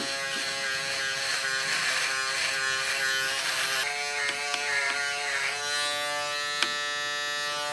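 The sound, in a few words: CoolTec CT2S electric razor shaving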